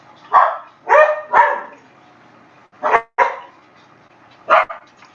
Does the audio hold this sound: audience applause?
no